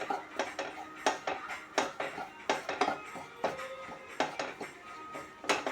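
A spoon stirs a mixture for Kerala nadan theeyal in a cooking pot, giving repeated metallic clinks and scrapes in an uneven rhythm at close range, with no talk.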